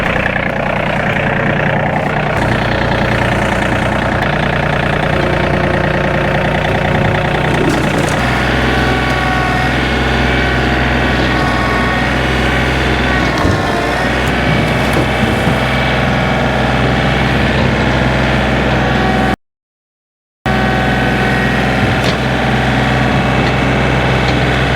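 The engine of a small tractor pushing debris toward a dumpster on a homestead runs at a steady, loud drone throughout, with a brief cut near the end and no talk.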